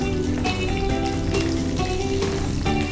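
Green chillies drop into chicken frying in oil in a pan for a spicy kodi vepudu, and a steady, loud sizzle and crackle runs throughout with no talk.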